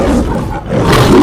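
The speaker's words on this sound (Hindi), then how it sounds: "सुनकर शेर गुस्से से दहाड़ा।" An angry lion lets out a loud, close, sustained roar that briefly dips and then swells again, filling the whole moment with no voices.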